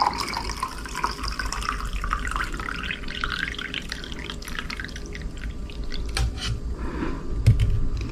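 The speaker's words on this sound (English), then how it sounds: "I'm just going to slowly pour this out." Basil and lemon liquid poured slowly through a strainer, a continuous close trickle and dripping of liquid lasting several seconds, with a few small clinks near the end.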